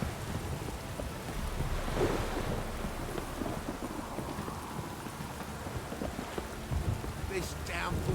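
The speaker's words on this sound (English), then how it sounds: "This downpour's a bastard, it is." Heavy rain from the video game Witcher 3: Wild Hunt pours down steadily in a dense, hissing wash, with faint low rumbles and a brief voice-like sound near the end.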